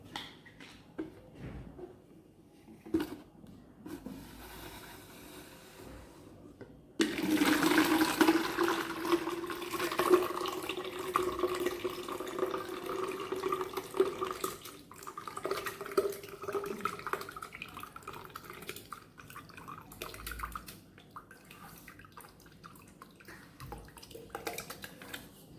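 Homemade fresh pineapple juice pours into a bottle. A gurgling fill starts after a few quiet seconds, rises in pitch as the bottle fills, and continues as a close, steady stream.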